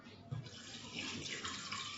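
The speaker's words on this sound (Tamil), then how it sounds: "போட்டு தண்ணி விட்டுக்கலாம்." Water runs in a soft, steady splash as it is poured into a cooking pot of mutton gravy, with a light clunk near the start and the flow growing slightly fuller toward the end.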